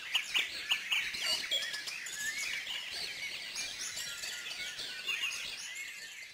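Many birds chirp and tweet together in a park at a hospital residence, a busy high chorus of calls that is moderately faint and keeps going throughout with no voices.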